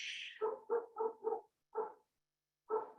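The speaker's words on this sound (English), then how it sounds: "I can hear the dog next door is very excited about something right now" A neighbour's dog barks excitedly next door, a run of four quick, evenly spaced barks followed by two more after short pauses, faint and slightly distant in a quiet room.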